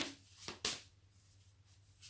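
Tarot cards being shuffled, with a couple of sharp riffling bursts early on and then a faint papery rustle over a quiet hum.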